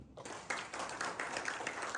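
Congregational clapping during a church service, a short run of fairly quiet, rhythmic hand claps in a roughly steady beat after a brief silent start, with no talking over it.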